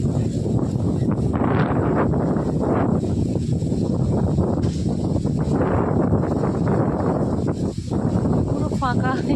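Strong wind buffets the microphone outdoors in a loud, continuous roar with gusty swells, while a person talks throughout underneath the rushing noise.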